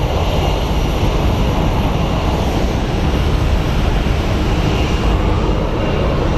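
A Swift Air Boeing 737 flying for DHL roars at Phoenix Sky Harbor International Airport, a loud, steady, broadband jet rumble that holds unbroken throughout with no voices.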